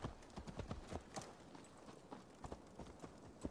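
Horse hooves clip-clopping in Assassin's Creed Valhalla, a quiet, irregular string of close hoof strikes at a walking pace, heard alone without talk.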